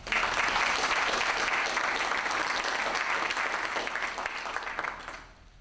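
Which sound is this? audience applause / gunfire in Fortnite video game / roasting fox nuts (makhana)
audience applause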